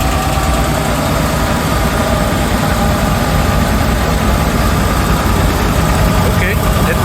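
A Rolls-Royce Silver Shadow engine, choke pulled, idles loudly and continuously right up close. The deep rumble is rough and constant, with some vibration and no clear start or rev change.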